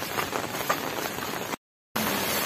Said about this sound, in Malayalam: അപ്പോ മഴയല്ലേ